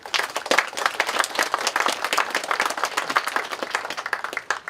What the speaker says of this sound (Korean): 박수 좀 쳐주십시오.